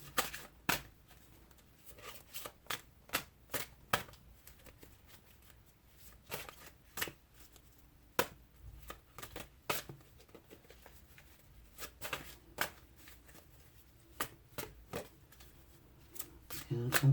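Romance tarot cards being shuffled, producing a steady series of soft, crisp card snaps and riffles at close range, repeating irregularly throughout at a quiet level with a faint low background hum.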